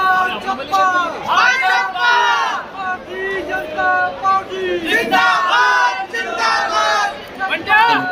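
A crowd gathers at the venue of Modi's election rally in Neemuch, Madhya Pradesh. Loud, overlapping voices shout and chant close by in a continuous babble.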